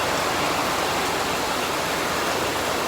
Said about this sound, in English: I've just watered my plants and now it's raining. It's showering.